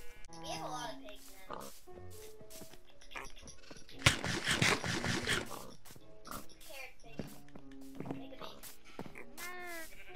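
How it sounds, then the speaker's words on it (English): Pigs oinking and grunting in a game-like setting, brief animal calls repeating throughout while someone talks over them, with a busier burst of squeals midway. "We have a lot of pigs"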